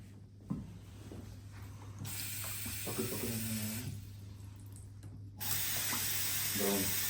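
A tap runs in bursts, dirty brownish water splashing into a sink with a steady low hum underneath; the flow stops and restarts a few times.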